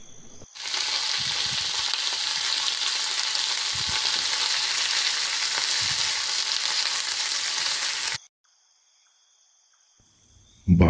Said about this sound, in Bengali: আমি এক্ষুনি রান্না চাপাচ্ছি